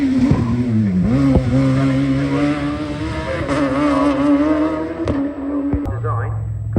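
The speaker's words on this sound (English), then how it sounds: "Nigel has the benefit of the huge amount of power from that big old Rover V8" A hill climb race car with a big Rover V8 accelerating at a Midland championship meeting, its loud continuous engine note climbing and wavering in pitch through gear changes, close and dominant throughout.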